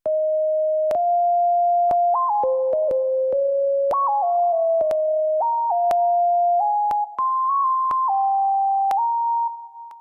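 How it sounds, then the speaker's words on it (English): A pure, smooth sine-wave synth lead made in FL Studio plays a stepping melody of sustained notes, loud and clean, with faint clicks marking the note changes. "There was this sine lead."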